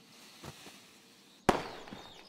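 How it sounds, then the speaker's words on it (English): A single loud firework blast breaks stone in the VR game A Township Tale, a sharp near crack followed by a crackling, decaying tail over faint ambient background. "fireworks"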